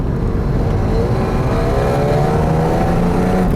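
A Mercedes-Benz SL600 R129 coupe's V12 engine droning steadily while driving, loud and continuous with rising tones as it accelerates slowly, heard from inside the car.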